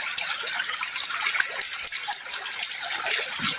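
Water running steadily along a river where shrimp and fish live, a continuous rushing wash heard close up and alone, with no voices.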